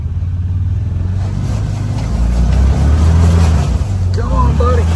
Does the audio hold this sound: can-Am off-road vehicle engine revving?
yes